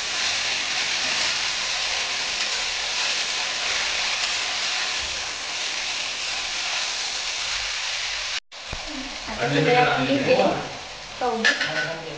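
Onion and tomato sautéing in a pan for biryani, with a steady sizzle and hiss and a brief scrape of stirring, then voices talking over the cooking near the end.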